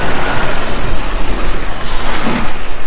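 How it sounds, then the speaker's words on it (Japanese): Car traffic on a street in Murakami, Gosen, Niigata, Japan, heard as a continuous loud broadband rumble and rush of passing vehicles, with no clear talking. "しかし車の騒音がうるさいって感じがしますけども"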